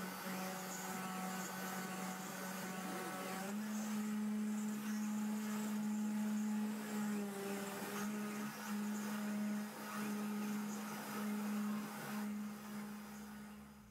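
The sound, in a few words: desktop CNC milling machine engraving with 2mm end mill router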